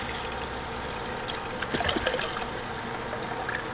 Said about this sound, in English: We'll start by adding the cranberry juice to the pan.